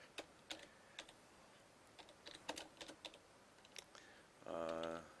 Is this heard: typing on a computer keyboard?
yes